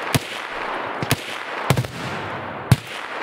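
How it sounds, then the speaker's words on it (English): Gunfire while shooting scavs in the video game Escape From Tarkov: four sharp, isolated shots spaced irregularly over a low ambient background, each a loud crack standing alone. "Shooting scavs."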